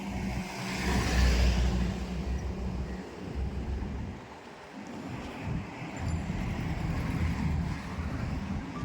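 A car pulls away in first gear on an empty road while being driven into a garage, a steady low engine rumble rising and easing, fairly close with no talk.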